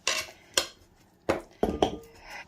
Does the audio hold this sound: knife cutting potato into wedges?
yes